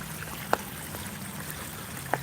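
A creek's water runs in a steady, soft wash that stays even throughout, with two brief sharp clicks breaking through.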